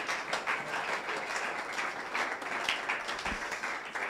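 A church congregation applauds together, a steady dense wash of clapping from many hands that holds evenly throughout, with no voices standing out.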